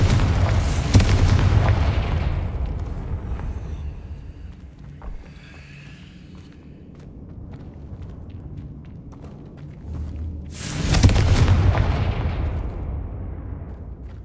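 A Confringo fire spell explodes in Hogwarts Legacy, booming blasts at the start and again near the end with a rumbling, echoing tail between them, loud and with no talk.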